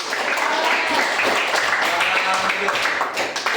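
A classroom gives applause after a group presentation, a loud, dense wash of clapping with voices mixed in throughout.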